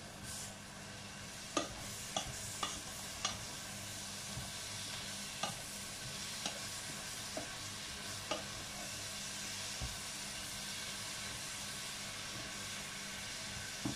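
Sliced leeks sizzle softly in a pan for a leek fondue, with a steady quiet frying hiss and a wooden spoon tapping and scraping the pan at a loose, regular pace, no voices.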